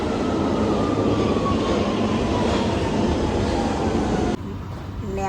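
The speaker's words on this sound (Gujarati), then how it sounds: "અને જો આવી ગઈ છે ટ્રેન" A commuter train pulls into a station with a loud, steady rumble and rolling wheel noise, then the sound drops abruptly near the end, with no clear talk over it.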